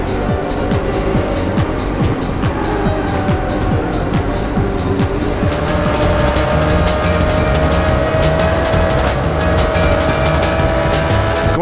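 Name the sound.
race cars speeding in Test Drive Le Mans video game replay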